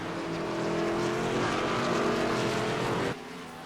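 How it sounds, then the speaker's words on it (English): Race cars roar around a track in a loud, sustained engine drone with steady pitched tones, holding close and strong before cutting off abruptly near the end. "8 cars still racing, 8 cars on the lead lap."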